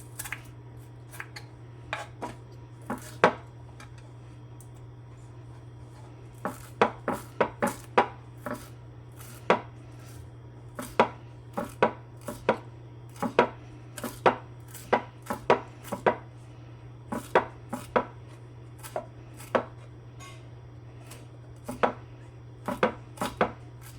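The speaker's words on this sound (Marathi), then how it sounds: "आता कोथिंबीर चिरायची" A knife chops fresh coriander on a cutting board with sharp, close taps. They come in irregular bursts and quicken into fast runs over a constant low hum, with no talking.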